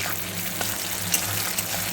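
Chopped tomato and onion frying in hot oil give off a steady, close broadband sizzle with a few faint pops and crackles, and no voices.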